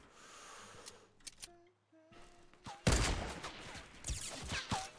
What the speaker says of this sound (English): he's just shot me through a wall